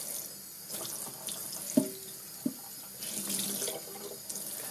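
Running water splashes into a sink from a tap, rinsing used espresso coffee grounds down the drain, with a couple of sharp clinks and a surge of flow near the end.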